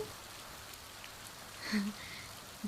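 Faint, steady rain hisses in the background, soft and distant, with a couple of brief muffled sounds over it.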